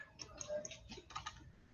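Scattered clicking keystrokes on a computer keyboard, a few irregular taps spread over a couple of seconds, fairly close but quiet.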